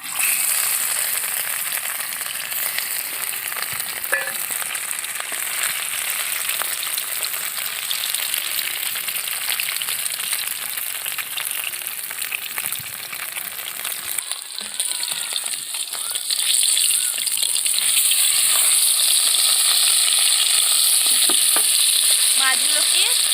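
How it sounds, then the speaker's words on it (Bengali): Marinated fish fries in hot oil in a wok with a loud, continuous sizzle and crackle up close, which grows even louder and brighter toward the end. "তেলটা গরম হয়ে গেছে আমি এর মধ্যে মাছটা দিয়ে দিচ্ছি"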